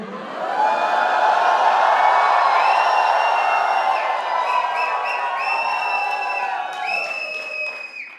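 A large audience at a talk shouts and cheers loudly, a sustained roar of many voices with rising whoops and individual yells breaking out toward the end.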